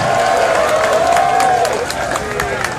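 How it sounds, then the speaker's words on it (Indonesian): A crowd gathered outside a mosque in Banda Aceh claps and cheers loudly amid general hubbub, with a voice rising over the noise at the start. "Tepuk tangan untuk Kapolresta."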